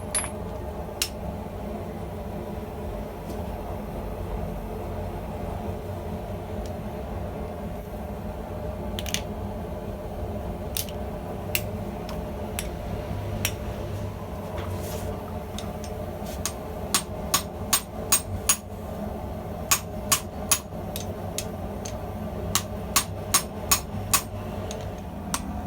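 Hammer blows on hot steel resting on a shaking anvil while forging fuller tongs, sharp metallic strikes that start sparse, then come in quick clustered bursts toward the end against a low background hum.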